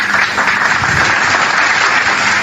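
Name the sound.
applause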